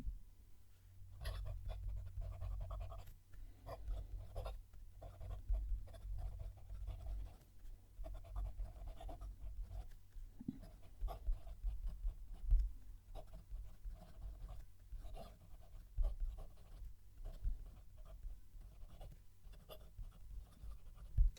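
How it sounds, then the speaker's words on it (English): A large Jinhao fountain pen writing a sentence on paper, its nib slightly scratchy, giving close, soft irregular strokes and scratches under a low steady hum. "It's also a little bit scratchy as I'm writing."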